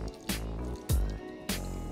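Water is poured gradually into an almond queso fresco mixture of almond, salt, garlic, apple cider vinegar and lemon juice, producing soft liquid splashes and a few quick drips close by, with no voices.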